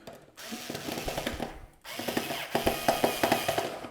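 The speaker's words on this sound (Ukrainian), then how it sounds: "Тепер я беру, сміло закручую." A power screwdriver drives screws into a Copos electrical junction box in two close, loud bursts. Each burst has a steady ratcheting rhythm, and no one speaks over it.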